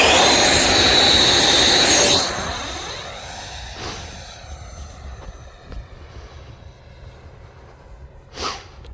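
A 3D-printed 64mm A-4 Skyhawk RC jet flies at about half throttle: a loud, close ducted-fan roar for the first two seconds, then a falling whine that fades into the distance with faint passes.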